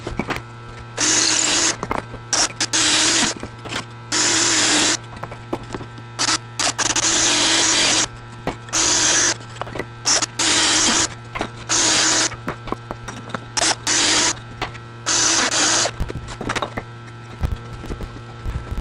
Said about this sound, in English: now you can start drilling in at an angle.